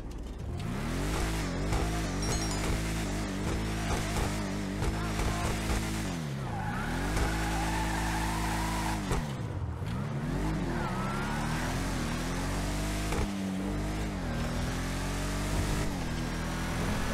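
Engine of the Bravado Gauntlet Classic car in GTA Online, a loud, deep rumbling muscle-car roar that revs up and down repeatedly with rising and falling pitch, alongside some tire squeal.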